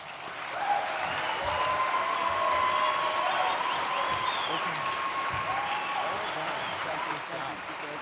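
Sustained audience applause at the Western Conservative Summit 2012, welcoming Colorado Secretary of State Scott Gessler; dense, steady clapping of a large crowd holding for several seconds, then beginning to taper toward the end.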